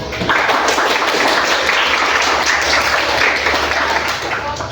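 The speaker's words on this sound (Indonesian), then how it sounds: "kasih tepuk tangan dulu untuk kelompok 1" Students in a classroom applaud a presenting group, a loud, close, continuous patter of many hands clapping that holds steady for several seconds before easing slightly at the end.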